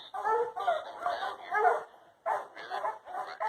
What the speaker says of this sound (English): See them dogs? I don't know if you can see them,